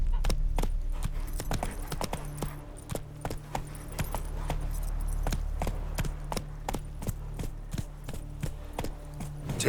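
Roach, a horse in The Witcher 3, clip-clops at a steady walking rhythm, the hoofbeats close and distinct over low ambient background, with a faint voice coming in briefly.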